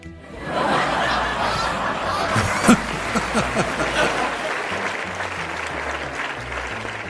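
A large audience bursts into applause with scattered laughter and chuckling, a dense, sustained crowd sound that swells in and stays loud throughout, with occasional sharper peaks.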